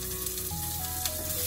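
Onions sizzling in oil in a pan with mushrooms, a steady close frying hiss over a brief span.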